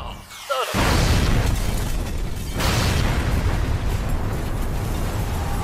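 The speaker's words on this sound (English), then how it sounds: "Firing main cannon." A main cannon firing in Red vs Blue: a sudden loud blast breaks in after a brief quiet moment, then becomes a sustained roaring, crackling explosion that fills the rest of the clip with no voices.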